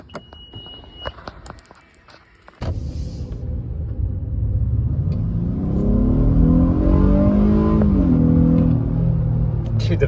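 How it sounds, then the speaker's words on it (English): Honda Civic engine with VTEC, a short rattle and beeps followed by the engine starting and revving, rising harmonic tones climbing then dropping as it accelerates, loud and close inside the car. "the VTEC in this thing cracks me up"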